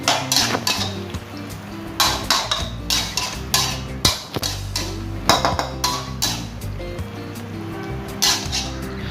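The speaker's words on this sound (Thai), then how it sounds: "จากนั้นก็ทำการผัดให้เข้ากันเลยนะครับ" Long beans stir-fried with red curry paste in a pan, a busy run of metal spatula clanks, scrapes and clinks in a quick uneven rhythm, close and fairly loud, with no talking.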